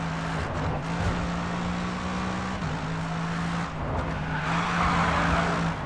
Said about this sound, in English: This thing sounds like a tractor. Like a really powerful tractor.